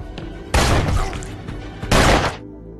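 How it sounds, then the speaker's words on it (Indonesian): Two loud gunshot bursts ring out in a tense action film scene, the first and longer one about half a second in and a second shorter blast near the two-second mark, with a quieter murmur of background sound between them. "Sayangnya dalam insiden tersebut temannya Matt harus terkena tembakan"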